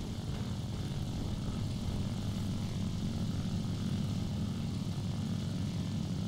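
Propeller aircraft engine in War Thunder makes a steady, dense low droning roar, constant and fairly close throughout, with no talk over it.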